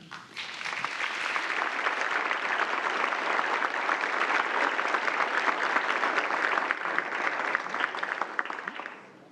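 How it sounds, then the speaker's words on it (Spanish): Sustained audience applause at a talk on press persecution in Nicaragua, a dense, steady clapping from a full room that swells quickly and holds for about nine seconds before tapering at the end, with no voices over it. "Un aplauso para él."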